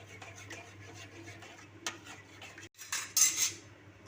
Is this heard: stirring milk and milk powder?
yes